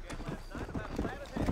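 Horse galloping in Red Dead Redemption, quick rhythmic hoofbeats, fairly faint and steady, with someone talking over them.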